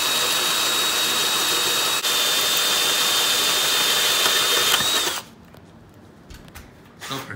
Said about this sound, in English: he's got the first hole drilled. I'm about to hit the second one.